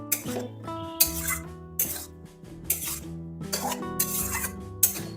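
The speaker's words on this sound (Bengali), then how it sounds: "মশলার সাথে ভেন্ডিটাও কষিয়ে নেব।" Fried okra being stirred with spices in a pan, a spatula scraping in short bursts roughly once a second while soft tonal background music plays.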